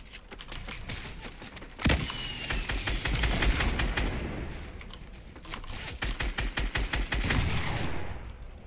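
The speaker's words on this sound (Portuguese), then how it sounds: "isso foi tiro que eu tomei de outro lado, velho." Fortnite gunfire crackles in rapid bursts of repeated shots, with sharp clustered reports, a heavy impact near the start and a second dense volley later, loud and continuous without talk.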